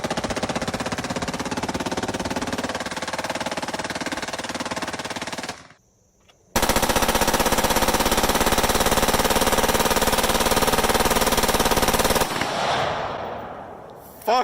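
Rapid sustained gunfire from a semi-automatic rifle fitted with a special fast-reset trigger: two long, loud, even bursts separated by a short pause, then a fading echo.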